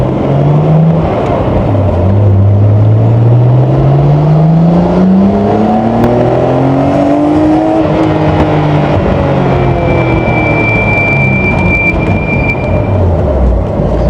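Nissan GTR engine pulling hard under full acceleration, a loud close rising whine climbing through the revs, easing off and then climbing again, with no talking.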